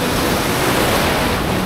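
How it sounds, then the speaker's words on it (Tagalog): Large sea waves on the Palawan coast make a loud, continuous roar of surf with a wind-like hiss, with no voices present. "Medyo malalaki yung alon."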